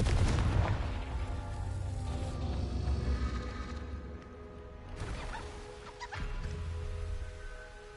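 Fiery spell blasts and explosive booms from the Hogwarts Legacy video game on PS5, dense rumbling bursts layered with game effects and music, loud and continuous with a brief lull midway.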